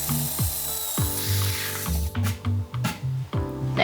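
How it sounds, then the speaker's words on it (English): A power drill whirs in a series of short, repeated bursts, its motor pitch rising and falling as it bores holes into a wood board. "Just about to drill the hole so then so I can put the screws in"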